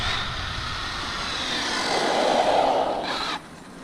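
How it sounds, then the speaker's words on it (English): An Arrma Mojave 6S BLX RC truck's electric motor runs at full throttle, giving a steady loud whine and rushing roar that swells slightly, then cuts off abruptly near the end. "That's full throttle."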